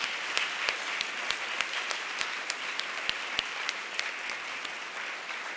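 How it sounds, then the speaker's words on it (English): Steady applause from an audience at a Governor General's visit to the University of Saskatchewan, many hands clapping densely with a few sharper individual claps standing out, holding an even level throughout. "Please, another round of applause."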